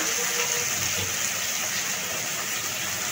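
Water poured from a mixer jar into spice paste in a pan for pomfret tel jhol, a steady close gush and splash lasting a few seconds with no voices.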